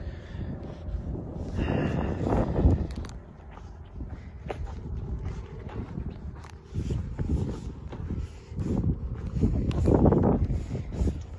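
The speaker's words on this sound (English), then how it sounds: "It wasn't windy till I came out here, I'm sure." Wind gusts outdoors beside a farm garden and cow pasture, buffeting the microphone in rough, uneven surges that rise and fall over several seconds.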